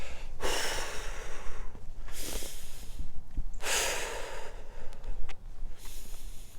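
Four long, forceful exhales in a steady rhythm, each a broad breathy rush of air with short pauses between, close and clear, from a beginner running workout's breathing exercise.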